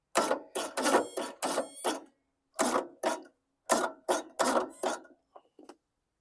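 A 2007 John Deere D110 lawn tractor starter cranks in a series of loud, rhythmic bursts, roughly ten grinding pulses separated by pauses, the engine failing to catch, with a few faint clicks at the end.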